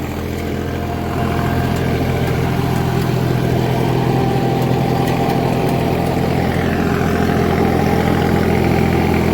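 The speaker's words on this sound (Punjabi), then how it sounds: "ਝਾਮਨ ਵਾਲਾ ਵੀ ਆ ਗਿਆ ਟਰੈਕਟਰ" A tractor engine idles steadily in a field during sowing, a constant low rumble with a slight increase in level after the first second and no talk.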